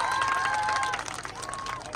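An audience at a Teeyan Teej festival akhara stage show gives a loud round of applause, dense clapping and crowd noise with some tonal voices carrying over it, easing slightly partway through.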